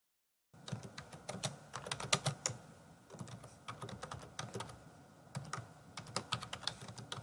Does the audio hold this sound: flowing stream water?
no